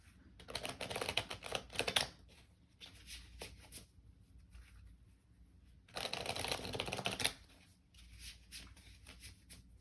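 Tarot cards being shuffled by hand in two loud bursts of riffling and rustling, near and clear, with quieter handling in between and no talk.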